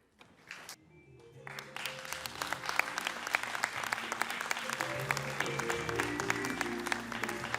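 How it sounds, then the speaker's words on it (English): Audience applause after a film screening at an event on the influence of Africans and Creoles of Color on Louisiana art: clapping begins sparsely, then swells into sustained, dense applause from a sizable crowd, with no talk. "Give another round of applause for that film."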